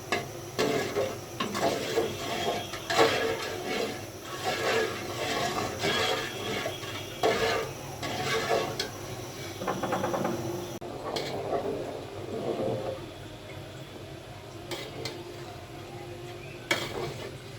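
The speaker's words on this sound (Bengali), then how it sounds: "ভালোভাবে নাড়ে দিচ্ছি, হালিম যাতে নিচ থেকে লেগে না যায়।" A spoon stirs haleem made with lentils and meat in a pot, with repeated scraping and clattering strokes over a low bubbling simmer that grow quieter toward the end.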